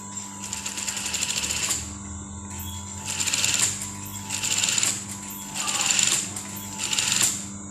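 A sewing machine stitches a bias-bound hem around a dress, running in about five short bursts of rapid mechanical whirring, separated by brief pauses and a quieter background hum.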